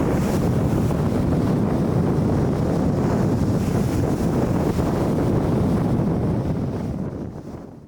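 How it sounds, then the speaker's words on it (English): Waves rolling onto a windy shore, a steady broadband wash with heavy wind buffeting the microphone throughout, fading slightly at the end. "Those waves coming in."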